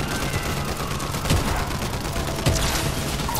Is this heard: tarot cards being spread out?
no